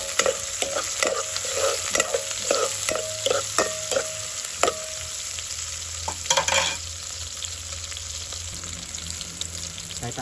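Onion and garlic sautéing in a pan for ginataang tambo, a soft sizzle under repeated scraping stirs from a utensil, with a short burst of running water partway through.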